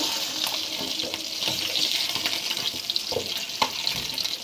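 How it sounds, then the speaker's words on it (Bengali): Bata fish frying in oil in a wok, a dense close hiss and crackle with scattered pops and light utensil taps, no speech. "মাছটা ভেজে নিচ্ছি ভালো করে।"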